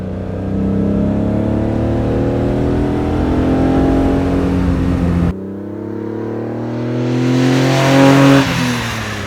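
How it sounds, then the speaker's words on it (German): A 1971 Fiat Dino 2400 Spider engine, Ferrari-derived, revs hard and climbs in pitch, accelerating twice with a brief shift in between, loud and close throughout. "Wenn man mit dem Auto Gas gibt, da kommt ja richtig was."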